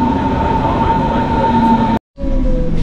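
A train at Wannsee station in Berlin gives off a loud, steady rumble with a sustained tonal hum, broken by a brief dropout before the rumble resumes.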